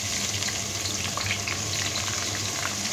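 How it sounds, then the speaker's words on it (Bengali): Two cups of onions with whole cumin fry in hot oil for a coconut beef curry, giving a close, loud, continuous sizzle and hiss. "এবার পেঁয়াজটাকে একটু ভেজে নেব।"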